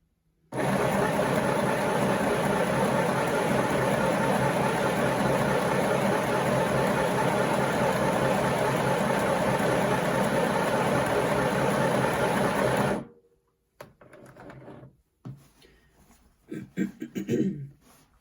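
A Midi sewing machine stitches a dress hem. Its motor runs in a steady, loud, unbroken whir for roughly twelve seconds, then cuts off abruptly, leaving a few faint handling noises.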